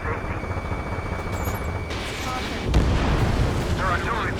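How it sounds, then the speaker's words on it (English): Artillery fire in the video game Ace Combat 7 rumbles as dense, continuous low booming and blasts, with a heavier impact near the middle and a steady roar throughout. "Their artillery fire just missed us off our starboard side."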